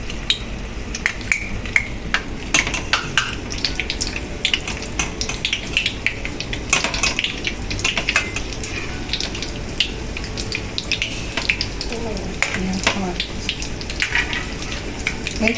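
Leftover turkey and mashed potato patties frying in really hot oil, a steady close sizzle and crackle with scattered pops and scraping throughout.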